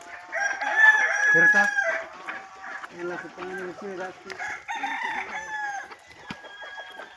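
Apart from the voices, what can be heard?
free-range country chickens clucking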